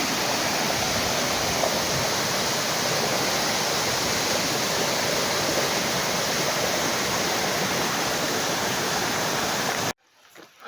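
Water pouring off Gorman Falls into a small stream near the Colorado River: a loud, dense, steady rushing roar that fills about ten seconds, then cuts off abruptly.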